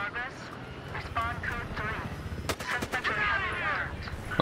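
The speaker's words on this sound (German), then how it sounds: "Jawohl, ich kann schießen." Gunfire in the shooter game Battlefield Hardline, played as a cop: bursts of shots and rapid fire rattle in the game mix while someone talks over them almost throughout.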